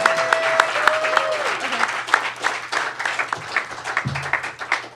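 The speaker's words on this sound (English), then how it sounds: "Round of applause for Mr." A music-hall audience in Hawaii applauds for a performer, loud, dense clapping with scattered sharp claps and a low hum underneath.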